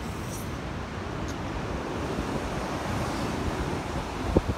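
Strong wind right after a severe rainstorm roars steadily against the microphone as a dense, continuous rush, with a couple of faint distant knocks near the end.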